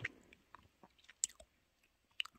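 Soft, close-up chewing of a yellow lemon-flavored gummy candy coated in crunchy sugar, with irregular sticky smacks and small crisp bites scattered over quiet pauses.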